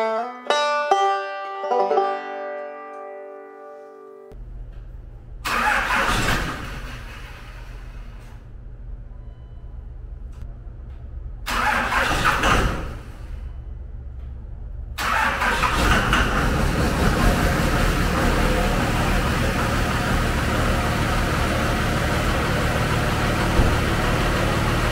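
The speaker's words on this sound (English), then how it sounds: "Well, it took a couple tries. Blowing a little smoke. But it fired right up." A 2nd Gen Dodge Cummins diesel truck cranks in freezing cold, catching in short bursts over a couple of tries before firing up and settling into a steady, rumbling idle.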